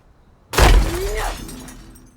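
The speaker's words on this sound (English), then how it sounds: "Can I break this glass?" Glass shatters loudly in Dead Island 2 played in VR: one sudden close crash followed by a tinkling, ringing spray of shards that fades over a second or so.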